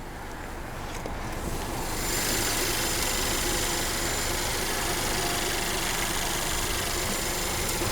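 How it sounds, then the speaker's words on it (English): A 2018 Infiniti Q50 Luxe with a 2.0-liter turbocharged four-cylinder engine and seven-speed automatic idling, a steady low hum and broadband rumble heard close, growing slightly fuller after the first two seconds. "this one is a 2-liter turbocharged 4-cylinder"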